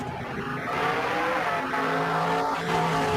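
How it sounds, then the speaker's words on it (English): A single car drives past, its engine and tire noise holding loud and close for a few seconds with a shifting pitch as it goes by. "A car moving towards me sounds high-pitched."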